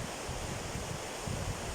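Flowing water from a small forest stream makes a steady, broad rushing hiss throughout, with no pauses or voices.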